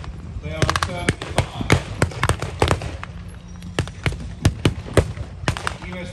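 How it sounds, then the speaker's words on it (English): Mortar rounds firing during a TankFest battle display, a rapid series of sharp, loud blasts and cracks, some closer and some more distant, with a commentator speaking over them. "US troops are now dropping mortar rounds down around attack 38."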